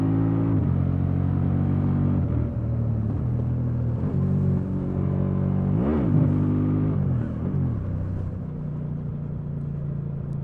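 A Honda Transalp motorcycle engine revs and surges, a loud, close droning rumble whose pitch climbs and falls through several pulls, with one sharp rise and drop midway.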